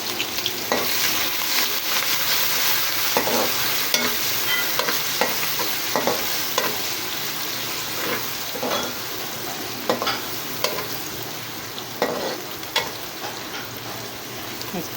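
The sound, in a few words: onions frying with garlic ginger paste being stirred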